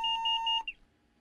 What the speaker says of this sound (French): Voilà, ça bip.